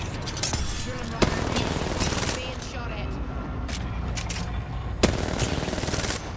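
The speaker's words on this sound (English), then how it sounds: "Being shot at." Rapid automatic gunfire in a solo-versus-squads video game match rattles steadily and loudly throughout, with a couple of sharper, louder shots standing out.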